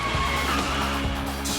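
A car brakes hard and skids, its tires squealing in a loud, harsh burst heard up close, with road noise around it.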